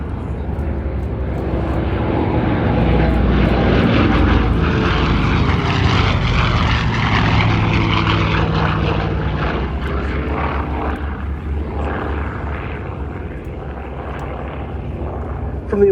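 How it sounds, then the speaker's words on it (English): A 1958 Douglas DC-6B airliner with 18-cylinder radial engines roars past in a loud propeller flyby, building to a peak and then slowly fading, with a voice talking faintly underneath. "Off goes the DC-6 underneath."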